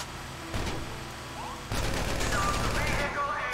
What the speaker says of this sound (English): I think I'm shooting the trailer.